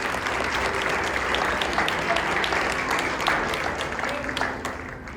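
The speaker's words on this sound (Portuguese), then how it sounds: "Dá uma salva de palmas para o Senhor." A church congregation applauds for several seconds, a dense, steady wash of clapping with some voices and a few cheers mixed in, tapering slightly at the end.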